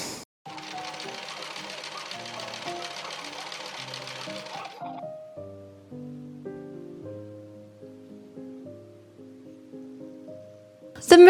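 A sewing machine stitches practice buttonholes on scrap fabric with interfacing, a fast, steady, close whirring buzz for about four seconds, followed by gentle background music with no stitching.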